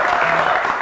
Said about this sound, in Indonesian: Bangga, tepuk tangan ya.